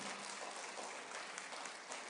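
Steady crowd applause fills a church service, a dense continuous clatter of many hands clapping without pause.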